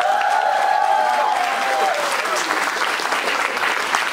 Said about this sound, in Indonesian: Sekali lagi tepuk tangan untuk mereka.